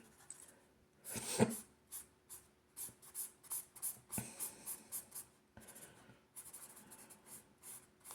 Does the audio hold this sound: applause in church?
no